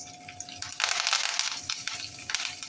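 Fresh curry leaves hit hot oil with cumin and mustard seeds for a tempering, giving a sudden loud crackling sizzle that settles into steady frying with scattered pops.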